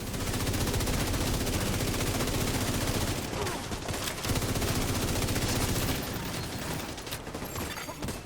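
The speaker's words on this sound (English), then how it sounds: "I'll start shooting him again." Continuous dense automatic gunfire in a video game, loud and near, sustaining a steady roar of rapid shots for several seconds with faint voices beneath.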